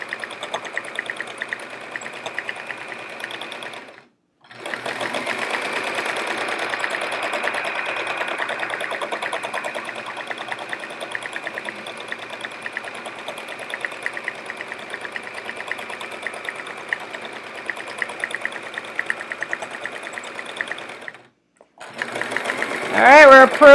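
Electric sewing machine stitching free-motion swirls on a chevron quilt, a steady loud motor whir running continuously with two brief pauses where it stops and restarts.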